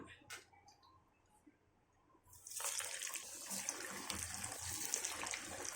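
Pottukadalai (roasted gram) vada dropped into hot oil, a steady broadband sizzle of frying that bursts in loudly after a quiet pause and keeps bubbling close up.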